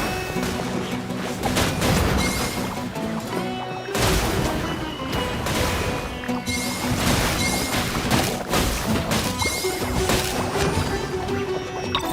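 A run of explosions in the Fabulous Fungus Frenzy video game: loud, crashing blasts that repeat in dense waves and carry on without pause, with no voices over them.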